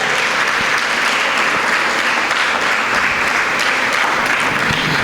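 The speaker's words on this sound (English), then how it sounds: "I think that deserves a round of applause." A school speech-day audience applauds a visiting speaker with steady, dense clapping that fills the hall evenly from start to finish.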